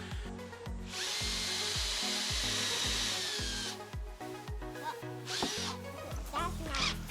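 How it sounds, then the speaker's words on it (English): A power drill whirs in repeated bursts, drilling and countersinking holes in wood for a play structure, winding down between runs, close by with some faint rubbing and handling noises. "I'm just countersinking some, drilling and countersinking some holes"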